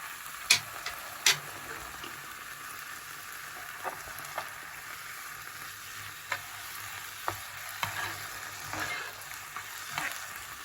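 Stuffed calamari filled with rice and shrimp, stirred with sauce in a frying pan: a steady soft sizzle runs throughout, with scattered sharp spoon clicks against the pan and no talking.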